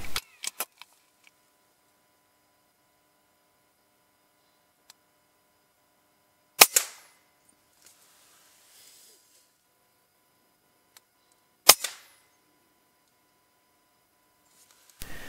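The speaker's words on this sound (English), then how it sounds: "This is another heart and lung shot with a large caliber." Three sharp, loud cracks of a large-caliber .25 air rifle fired at pests around a garden bird feeder, spaced about five seconds apart, each a short broadband snap with a brief tail, separated by near silence.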